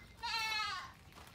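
A goat lets out a single clear, wavering bleat lasting about half a second inside a pen at an old farm building, with faint background noise and no talk.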